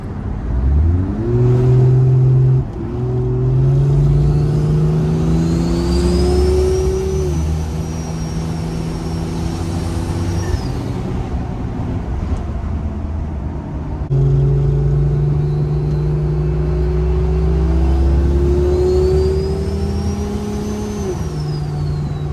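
A Jeep fitted with a turbocharged 2JZ engine and an automatic gearbox drives through a city. Its deep engine drone rises and falls through the gears, and a high turbo whistle builds on each acceleration.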